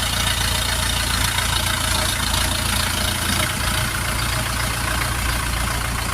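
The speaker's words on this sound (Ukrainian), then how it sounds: "ось такий крутий трактор" An Orion RF504RC PRO tractor engine idles steadily nearby, a low continuous rumble with a slight knocking pulse, no voices.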